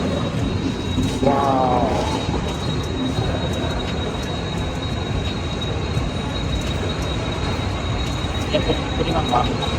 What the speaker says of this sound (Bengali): আর এই যে ট্রেন এসে গেছে